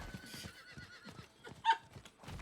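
A horse in Diablo IV whinnies with a high, wavering neigh, alongside soft rhythmic hoofbeats and one sharp louder burst, close and fairly clear with no talking.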